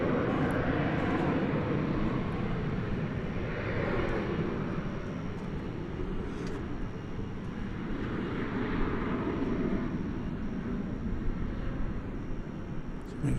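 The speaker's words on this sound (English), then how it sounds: "There's an American Eagle flight 3537. It's off to Fort Smith," An American Eagle jet's engines rumble at DFW Airport at night, a broad, steady roar at moderate distance that swells gently and fades, with no one talking over it.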